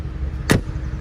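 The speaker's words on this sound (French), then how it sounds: "Écoutez ce bruit de porte." A Mercedes G-Class door shuts once with a single sharp, solid thud, heard close up against a quiet background.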